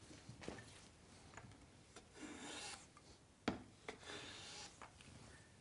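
A block plane makes a test cut in wood, a few quiet rasping strokes with soft scraping and one sharper knock, close and unaccompanied by talk.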